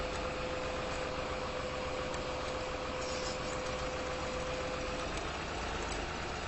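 Tractor engine idling in the video game Farming Simulator 2013, a steady low rumble with a constant tone held for about five seconds, moderately loud and alone without talk.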